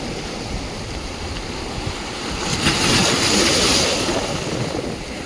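Sea waves at Shiroda beach at high tide, a continuous broad wash of surf with one swell building and receding midway, fairly loud and with no voices.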